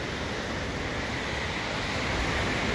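River water at Niagara rushes toward Bridal Veil Falls in a dense, constant roar, a broad steady wash of flowing water with no voices.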